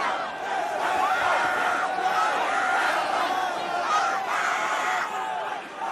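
At the Astroworld concert, a packed crowd screams and shouts in a dense, continuous roar heard from a distance, with a babble of voices throughout.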